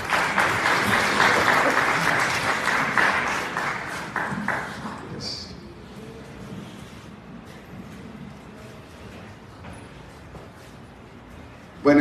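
Loud audience applause at a national oratory contest held as a protest event, dense clapping filling the hall for about five seconds before fading to a low murmur of the crowd.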